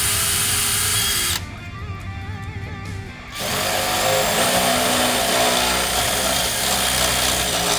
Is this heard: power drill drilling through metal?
yes